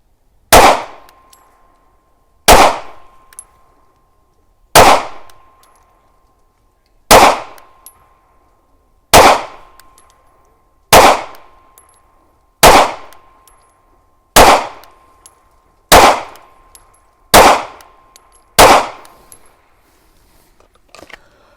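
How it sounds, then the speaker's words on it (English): Smith & Wesson M&P compact pistol with a 3.6-inch barrel fired slowly at a range target, eleven sharp loud shots spaced about two seconds apart, each followed by a faint ringing tone. "I'm just going to shoot into the center of that target, nice and slow on the trigger."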